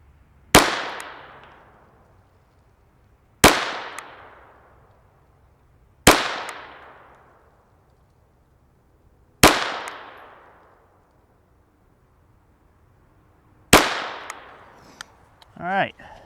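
A SIG P322 Competition .22LR pistol fires five single sharp shots at an outdoor range, each crack followed by a short decaying echo, spaced a few seconds apart with a longer pause before the last, then a brief voice.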